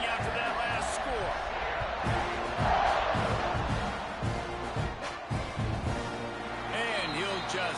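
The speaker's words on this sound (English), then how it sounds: "this crowd is buzzing after that last score." A college football stadium crowd buzzes after a touchdown and extra point, a dense roar of cheering and chatter beneath a broadcast commentator's talk.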